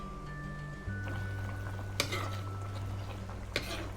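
Beef steak (bistek) simmering in a pot of boiling broth is stirred, giving a soft continuous bubbling with a steady low hum and two brief clinks of the utensil against the pot.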